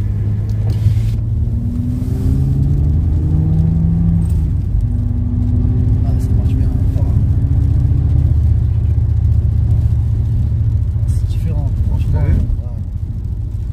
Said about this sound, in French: Tu montes bien dans les tours, toi.